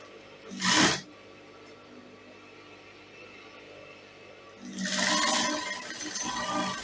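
Sewing machine stitching dress fabric, a short whirring burst, a pause of quiet, then a longer steady run of stitching near the microphone.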